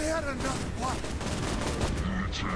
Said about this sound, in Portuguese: Que ganda tiro, meu.